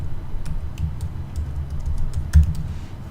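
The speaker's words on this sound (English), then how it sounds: "so I'm going to type singular" Fingers tap on a computer keyboard in a quick, uneven run of light clicks, close and fairly clear over a low background hum, with one firmer keystroke near the end.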